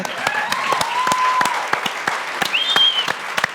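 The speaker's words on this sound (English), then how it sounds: "That's a round of applause" Steady audience applause fills the space with dense, continuous clapping, a few sharper individual claps popping out, and brief whistle-like tones rising above it.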